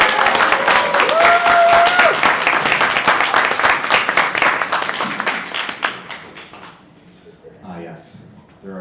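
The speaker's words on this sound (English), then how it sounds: "So you are allowed to applaud for him as he comes in" An audience at a CONvergence convention pun competition applauds a contestant walking in. Dense clapping starts loud, thins and fades over several seconds, and a few scattered voices follow as it dies away.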